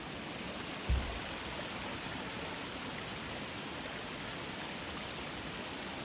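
Thousand Drips waterfall on the Roaring Fork Motor Trail in November gives a steady, even rushing wash of falling water, continuous and moderately loud, with a single faint thump near the start.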